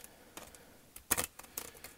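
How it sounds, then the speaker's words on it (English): Tarot cards are shuffled in quick, crisp bursts of flicking and snapping, with several separate riffles and one louder clustered flurry in the middle, all close and fairly quiet. "I'm just going to give these a shuffle, a proper shuffle."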